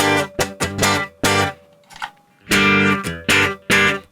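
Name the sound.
electric guitar through amp simulator pedal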